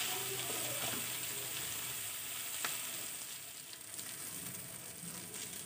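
Bread sandwich frying in oil in a pan, a steady close hiss and crackle of sizzling that holds at an even level from start to finish, with no talk over it.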